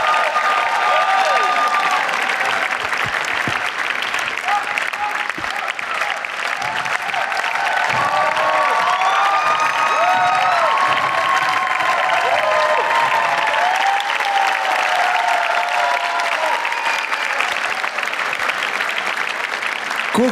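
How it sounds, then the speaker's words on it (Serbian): A crowd at a live rap show in a VIP room applauds a performer, sustained loud clapping with some cheering that carries on for the whole stretch. "jedan aplauz za ovog druga da vidimo kako se uradi."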